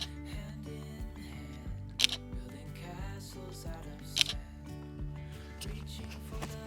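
A Fujifilm X-E4 mirrorless camera fires its shutter twice, about two seconds apart, each a crisp, close mechanical click heard over steady background music.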